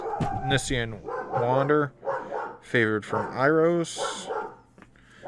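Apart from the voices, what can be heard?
dog barking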